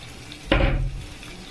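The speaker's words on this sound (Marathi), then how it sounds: "पाणी टाकूया." Water is poured into a cooking pot of halwa fish curry, a sudden close splash and gush that lasts about half a second and then settles into a quieter bubbling.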